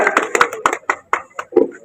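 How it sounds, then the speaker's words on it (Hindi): Hands clap in a quick, uneven burst of sharp claps for a minister at a political rally of a former agriculture minister; the claps are close, loud, and sparse, then fade after under two seconds. "बहुत बढ़िया, जोरदार तालियां भी"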